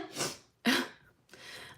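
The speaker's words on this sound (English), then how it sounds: "I have to sneeze." A single sharp sneeze bursts out close by, set between two softer breathy exhalations, with no talking.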